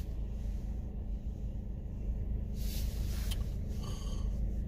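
A bus rolls past outdoors during a nature walk, a continuous low rumble with a brief hiss of air brakes or spray partway through and faint squeaks near the end.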